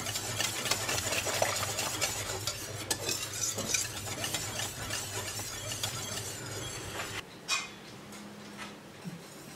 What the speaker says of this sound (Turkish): Şimdi pudingim kaynamak üzere.